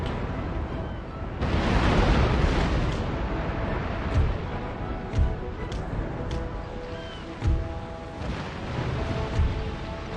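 Deep naval cannon booms from the video game Empire: Total War go off repeatedly at irregular intervals, some near and some distant, over a steady rumbling sea-battle din.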